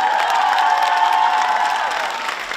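Steady applause from an audience at a women's carnival party, dense clapping sustained evenly for a couple of seconds with some crowd noise mixed in, fading slightly at the end.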